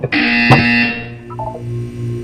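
A loud electronic buzzer tone blares for about a second with a sharp click, then fades into softer lingering tones, in the video game Portal 2.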